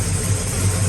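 A cold Pontiac GTO engine idles with a low, steady rumble, loud and close, over a brief stretch with no talk.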